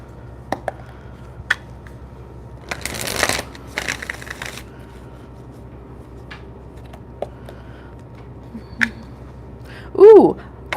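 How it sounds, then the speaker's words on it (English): Tarot cards are shuffled in a few quick riffling bursts, with soft handling clicks and taps between them and a brief voice near the end. "I'm just shuffling and it's like Queen of Wands, Mary J."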